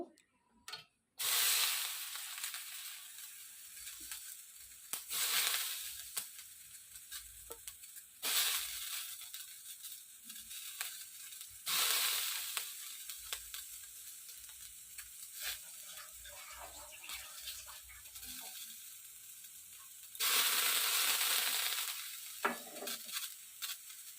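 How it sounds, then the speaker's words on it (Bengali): Chillies hiss and crackle in a hot wok in loud bursts that come and go, with quieter stirring and scraping between them. "লঙ্কাগুলো এখন কড়াইয়ের মধ্যে দিয়ে দিব"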